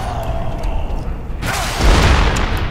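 A car blows up in the video game Dead Rising 3, a sudden broadband burst arriving midway and swelling into a loud, sustained roaring rumble over ongoing game noise.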